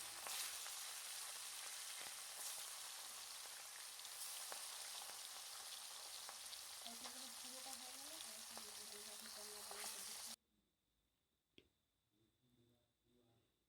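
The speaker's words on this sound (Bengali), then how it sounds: "এবার ওই তেলেই আমি আর বাকি মাছগুলোকে ছেড়ে দিলাম" Fish frying in hot oil gives a loud, steady, close sizzle for about ten seconds, with a voice briefly heard beneath it, before the sizzle cuts off to near silence with a few soft knocks.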